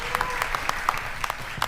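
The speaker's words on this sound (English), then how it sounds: "May we have one big applause for Jon" Conference audience applauding at the close of the day, a brief burst of dense clapping with a few sharper individual claps standing out.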